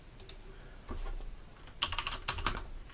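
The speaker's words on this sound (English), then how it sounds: "type in the customer's information" A computer keyboard is typed on in short scattered bursts as customer information is entered, soft nearby key clicks with a denser cluster of taps toward the end.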